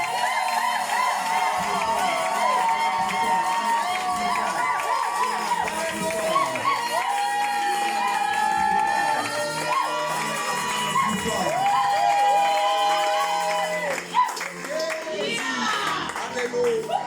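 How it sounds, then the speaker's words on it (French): A church congregation at an Easter service cheers and shouts for Jesus, a loud, sustained mass of voices with whoops and clapping filling the whole stretch without a break. "Acclamons plus fort pour Jésus."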